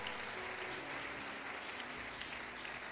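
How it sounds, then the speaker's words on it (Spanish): Steady, dense applause from a large church congregation during a Pentecostal sermon, continuous and even throughout with no pauses, a faint voice barely audible beneath it. "Dale ese aplauso fuerte al Señor"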